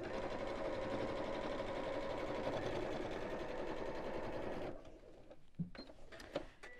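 Sewing machine stitching a ladies' evening bag, running in a fast steady whir for several seconds before stopping, followed by a few quiet clicks and handling sounds, close and alone without speech.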